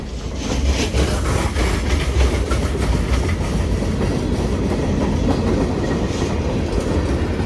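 A freight train of boxcars rolling steadily past, nearby, with continuous rumble and rhythmic clickety-clack from the wheels over rail joints.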